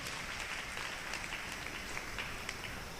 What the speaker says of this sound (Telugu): గట్టిగా చప్పట్లు కొట్టండి, గట్టిగా దేవునికి స్తోత్రం